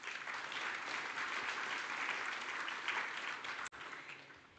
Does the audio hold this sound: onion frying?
no